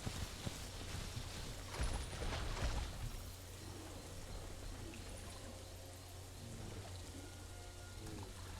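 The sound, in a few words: drinking water in The Isle video game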